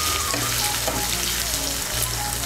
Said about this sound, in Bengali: আদাটাকে তেলের সঙ্গে মিশিয়ে নেব। মিশিয়ে নিয়ে একটু ভেজে নেব।